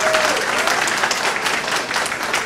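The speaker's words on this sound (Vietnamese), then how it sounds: "xin các bạn cho thầy một tràng pháo tay" Audience at a school alumni party applauding a teacher, a loud, lively round of clapping close by that swells and stays busy throughout, with faint crowd murmur beneath.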